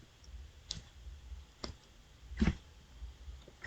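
Three separate, quiet mouse clicks on a check plagiarism button in an online plagiarism checker, spaced about a second apart over a low, faint background.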